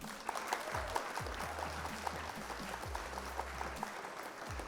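Steady clapping from a small group at an online card game tournament, continuous and moderately loud throughout, with low rumbling underneath.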